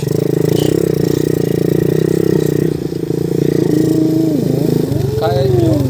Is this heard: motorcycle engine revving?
yes